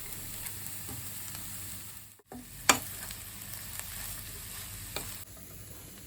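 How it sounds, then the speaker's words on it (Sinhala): Chopped wheat roti stir-fried in a pan with sausages for chicken koththu, a steady close sizzle broken by sharp scraping and clattering of a utensil against the metal, with no speech. "පාගත්තු ගෝතම්බර රොටි ටිකත් එකතු කරගෙන හොඳින් තෙම්පරාදු කරගන්න."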